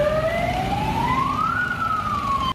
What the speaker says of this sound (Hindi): कई पुलिस वाले सायरन बजाते हुए उस हाउसिंग सोसाइटी में पहुंचे